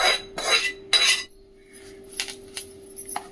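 A roasted curry leaf mix is moved into another vessel, with a few sharp metallic scrapes and clinks of a spoon against the pan, followed by lighter taps and rattles. A faint steady hum runs underneath.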